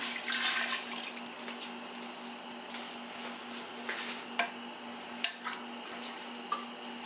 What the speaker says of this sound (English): I'm going to add just a little more water here.